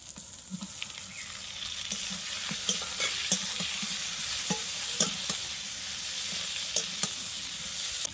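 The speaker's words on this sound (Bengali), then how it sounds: "এবার ভেজে রাখা আলুগুলো আমি মশলা দিয়ে ভালো করে কষিয়ে নেব" Fried potatoes being sautéed with salt, turmeric and Kashmiri chilli powder in a pan, giving a steady sizzle with repeated scraping and stirring clicks throughout.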